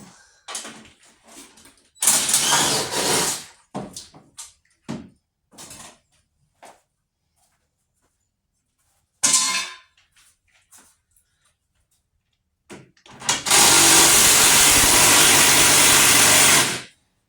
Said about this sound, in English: You hear that? That's a stripping of a bolt.